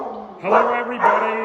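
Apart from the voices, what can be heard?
dogs barking at an animal shelter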